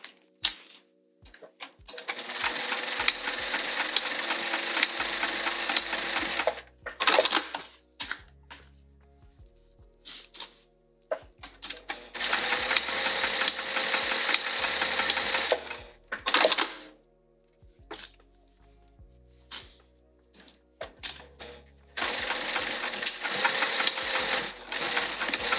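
A home sewing machine stitches back and forth across a fabric pleat on a Fogerty bag, in three long runs of steady mechanical whirring. Short pauses between the runs carry clicks and handling noise, all close and clear.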